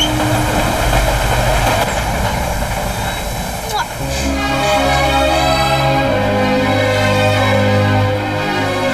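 A train passes a railway crossing in an Indian film scene, making a loud, continuous rumble with rhythmic wheel clatter and a brief screech partway through, while voices sound over it.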